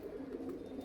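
Punjabi racing pigeons from Amritsar give a low, steady cooing that runs through the whole brief moment, close and fairly soft.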